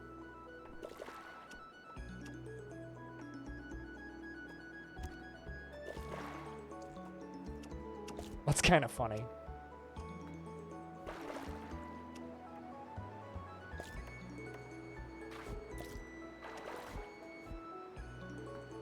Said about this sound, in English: You can hear the water getting redistributed again as the ice freezes